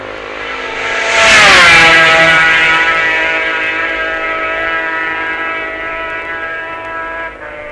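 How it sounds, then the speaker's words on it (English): A loud MZ racing motorcycle engine at the 1966 Isle of Man TT roars close by and then recedes, its pitch sliding downward as it passes and fades into a sustained drone. "But Rosner's MZ sounds really crisp in 4th place."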